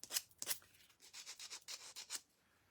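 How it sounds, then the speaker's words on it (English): Sandpaper rubbed along the edge of a wooden barn door sign stand to distress it, a close, quiet series of quick scratchy strokes in an uneven rhythm, alone with no voice. "we're going to distress this with our sandpaper"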